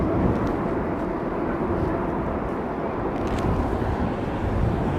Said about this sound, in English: Lovely descent pattern on that